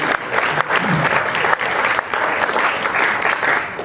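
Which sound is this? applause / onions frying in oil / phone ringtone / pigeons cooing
applause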